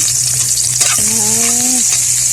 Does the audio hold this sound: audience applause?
no